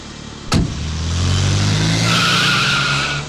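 A car pulls away with a sharp tyre screech at the start, followed by a rising engine roar and sustained squealing skid that swells loudly, then eases off near the end.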